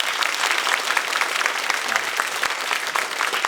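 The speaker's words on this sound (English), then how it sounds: "can we all give Wilbur a round of applause for his time?" Audience applause at a caregiver conference presentation: steady, dense clapping from a crowd indoors, sustained and fairly loud throughout with no voices over it.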